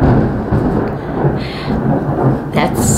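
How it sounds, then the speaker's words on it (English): Thunder rumbles as a storm passes overhead, a loud, sustained low roll under a steady rain-like hiss that lasts the whole stretch. "That's some good lightning and thunder behind us there."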